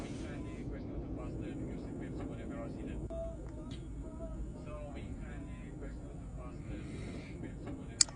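Quiet cabin ambience aboard an airplane in flight, a low engine drone and air hiss running steadily underneath soft murmuring voices of passengers, with a brief click near the end.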